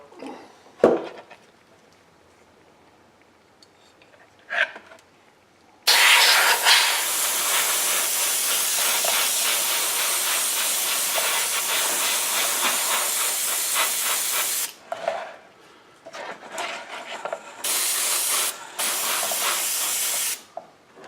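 A spray gun painting Dinky and Corgi model cars gives a loud, steady hiss lasting about nine seconds, followed by several shorter bursts separated by quiet gaps with faint handling clicks.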